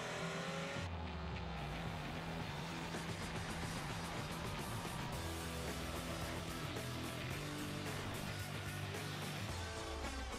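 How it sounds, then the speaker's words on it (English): A Toyota Camry Sportivo V6 with an all-alloy quad cam engine drives under a full music bed, its engine and tyre noise steady and loud throughout without any talk. "The new look Camry Sportivo V6 with responsive all-alloy quad cam engine, sports tuned suspension"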